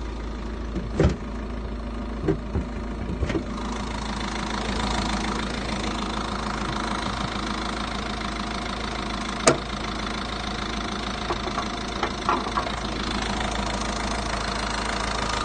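A 2016 Peugeot 3008 with a manual gearbox idles steadily with a constant low engine hum, punctuated by a few faint clicks and knocks, with no talk.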